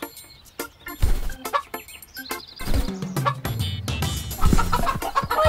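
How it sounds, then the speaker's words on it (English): Cartoon chicken clucking in short, loud, irregular bursts, with bright chirpy calls between them, close up and alone. "Look, the chicken is back."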